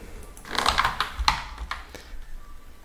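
Typing on a computer keyboard while filling in a Word document: a quick burst of close key clicks, then a few scattered taps trailing off into quiet.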